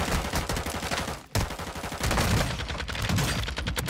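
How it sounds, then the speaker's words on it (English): Gunfire in a shooting video game, dense rapid bursts of loud, close shots running almost continuously, with a brief break after the first second. "Not when I'm out here with a shotgun."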